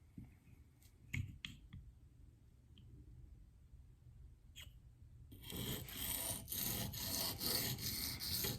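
An S110V steel knife is drawn across a diamond stone, first with a few scattered light scrapes and clicks, then a continuous rhythmic rasping of stroke after stroke, close and fairly quiet with no talking.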